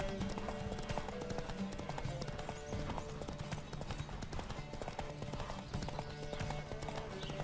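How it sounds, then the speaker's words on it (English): A horse gallops in The Witcher 3 video game, a steady, fast clip-clop of hooves running continuously with game ambience and music behind it, no pauses. "A veces se va cansando el caballo y... no puedo meter mucha tralla."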